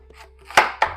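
A knife chops through a dosakaya, a yellow cucumber, on a cutting board, giving two sharp, close cuts within a second after a faint lighter tap.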